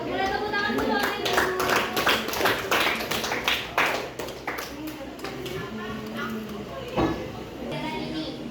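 Clapping in an Indonesian classroom after a student presentation, a scattered run of hand claps lasting several seconds with voices talking over it throughout.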